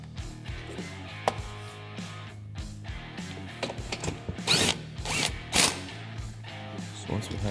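Bolts being worked loose and removed on a Polaris Ranger frame with a 10 mm tool, giving a string of close metallic ratchet and drill-like bursts, sharpest toward the end, over a steady low background hum.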